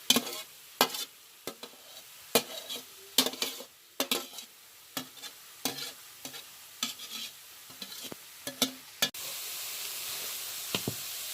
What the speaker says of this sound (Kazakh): Сәбізде 10 минут қуырылу керек.